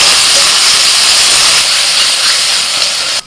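Onion, ginger and garlic masala paste hits a hot pan and sizzles with a loud, continuous, even hiss that holds steady before cutting off abruptly at the end.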